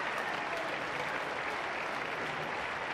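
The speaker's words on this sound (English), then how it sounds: "Listen to the applause for the loser." Spectators around number one court at Wimbledon give sustained applause for a beaten tennis player, a dense, even roar of many hands clapping at once that holds steady and loud throughout without a break.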